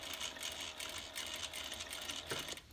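A sewing machine stitches slowly around the rounded edge as a handbag bottom is attached to its band. A continuous close hum runs with faint rhythmic pulsing and no voices.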